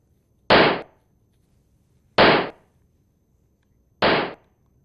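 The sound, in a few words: pistol being fired in the street, from a viral video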